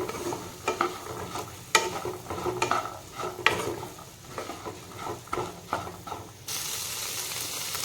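Chana being fried with masala in a pan: repeated spoon scrapes and stirring clatter over a steady sizzle, with a louder, continuous hiss of frying near the end.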